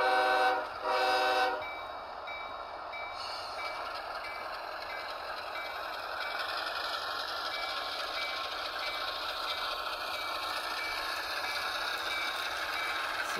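A model train backs up along its track, opening with a short, loud horn blast, then a soft, steady mechanical hiss and hum that continues for the rest of the stretch.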